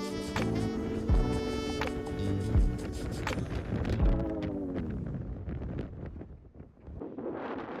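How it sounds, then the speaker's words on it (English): Strong wind blows on a cold outdoor day, a loud continuous rushing with gusty microphone buffeting and a few tonal whistling swells, fading somewhat toward the end. "It's so windy and it is singing beautifully today"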